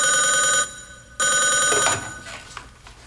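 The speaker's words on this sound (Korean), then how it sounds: "저기 전화 받으시죠" An old landline telephone bell rings loudly in a Korean police office, two long ringing bursts separated by a short gap, then fading; no talk over it.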